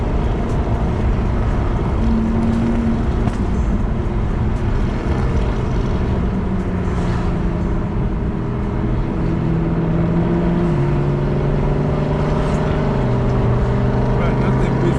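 A BMW 335i with a single turbo accelerates hard on back roads, its loud, steady engine drone rising through the gears from inside the car while people talk over it.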